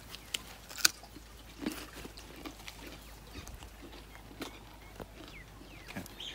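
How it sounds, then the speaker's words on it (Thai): Fresh cabbage from a cold-climate farm bitten and chewed up close, giving a scatter of sharp crisp crunches and snaps against a faint quiet background, with no talk. "เสียงเนี่ยแกรกๆๆเหมือนไปทำส้มตำได้เลยกรอบมีความกรอบ"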